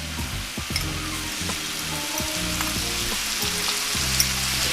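Crab frying in a hot pan for surf and turf sliders, a steady close sizzle with crackling pops, alone and without talk.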